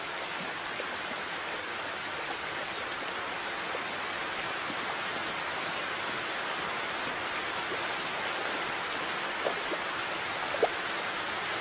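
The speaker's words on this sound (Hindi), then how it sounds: "अगर ऐसी बरसात चलती रही तो पानी का बहाव तेज होने का खतरा है" Heavy rain falls as a continuous, even hiss of water with a few louder isolated drops standing out near the end, steady throughout and with no voices.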